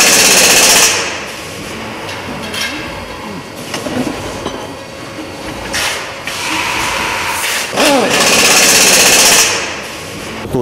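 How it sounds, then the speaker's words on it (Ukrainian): Pneumatic impact wrench fastening cranks onto bicycle frames on a factory assembly line, heard as loud rattling bursts around the first second, near 6 s and again from about 8 to 9.5 s, over steady machinery and hall noise. "Потім за допомогою пневмогайковорта закручується і ставляться шатуни."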